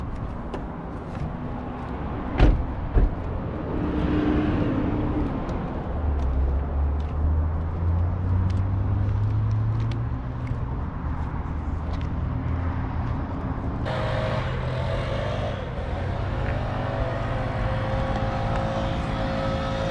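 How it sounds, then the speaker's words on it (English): Engine of a 2019 Chevrolet Camaro running, a steady low rumble with a brief rev partway through and a sharp knock near the start, no talk. "Yep, looks like a car engine."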